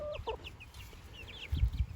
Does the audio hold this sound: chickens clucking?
yes